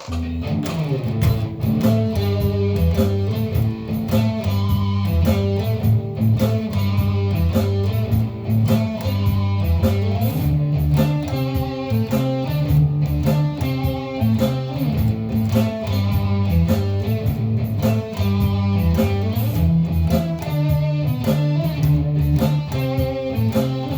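A driving rock blues guitar riff in A with a steady, bluesy groove over a thick low end, playing continuously and loud throughout.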